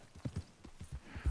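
Horse hooves clop in a quick, regular trotting rhythm in Red Dead Redemption 2, close and fairly quiet, with no talking.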